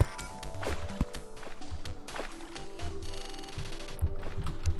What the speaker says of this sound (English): Somehow that shattering sound is actually good for it.